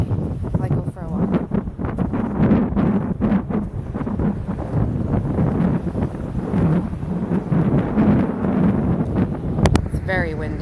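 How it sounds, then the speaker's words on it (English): Strong wind at a Jersey Shore beach buffets the microphone with steady low rumbling and gusts, while a person talks over it throughout. "It's very windy."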